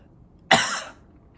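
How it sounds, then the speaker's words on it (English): A man gives a single sharp, loud cough close to the microphone in an otherwise quiet room, briefly trailing off. "I'm going to cough again."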